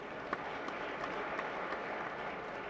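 An audience applauds at a live event with the chief minister, a steady dense wash of clapping held evenly throughout, moderately distant with a few sharper claps standing out.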